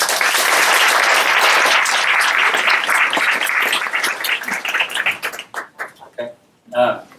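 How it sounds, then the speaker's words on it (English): An audience at a book launch talk applauds loudly and steadily, then the clapping thins out into scattered claps and fades, with a voice briefly heard near the end. "Please give them both a round of applause."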